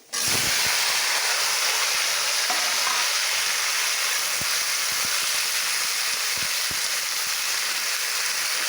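Loud, steady sizzling hiss of a vegetable filling frying in a pan, with occasional soft clicks and knocks beneath the constant crackle.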